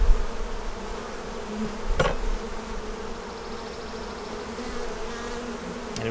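Honey bees buzz densely around an opened hive, a continuous close hum with a few louder passes and knocks.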